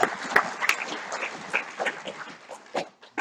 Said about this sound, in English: I think we should put a round of applause for that as well.